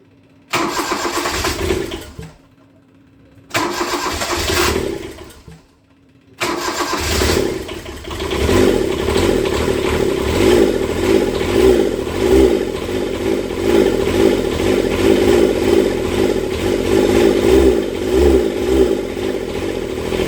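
A Kubota 662 diesel engine cranks over twice in short attempts, then catches and runs, settling into a steady, close, rumbling idle with slight variations in speed.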